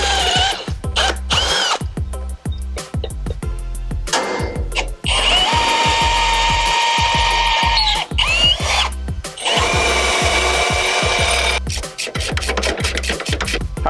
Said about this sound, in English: So just going to drill some holes and bolt it to the frame